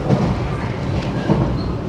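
An older passenger train carriage rolls steadily along the rails with a low, continuous rumble and faint clatter heard from inside the car, with no talking.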